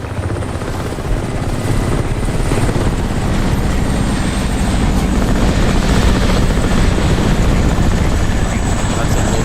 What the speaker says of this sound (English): That's a low flying chopper